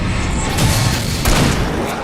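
Booming shotgun blasts in the Alan Wake video game, loud and close, with one burst near the start and another sharp hit about halfway through over a dense noisy game background.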